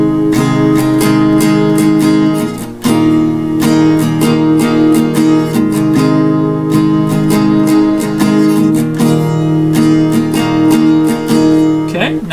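An acoustic guitar strums the intro of a song in a steady, driving rhythm, crisp strokes repeating evenly over ringing chords, loud and close with no talking.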